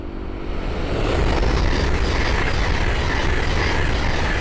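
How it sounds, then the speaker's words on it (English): An LNER Class 800 train passes on the East Coast Main Line at Great Wymondley, a steady, loud rumble of wheels and rushing air that swells after the first second and holds evenly throughout. "we have an LLER 800 coming through"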